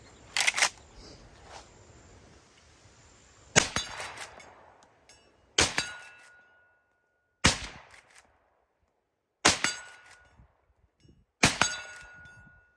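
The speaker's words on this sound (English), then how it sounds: "let me send these shots downrange, see if we can put them on steel" A Winchester Model 1894 lever-action rifle fires six loud, sharp shots about two seconds apart at an outdoor range, each crack followed by a brief metallic ring from a struck steel target.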